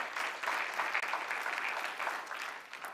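A church congregation claps for the Lord at a Pentecost service. The applause is moderately loud and steady, with many hands clapping together for a few seconds.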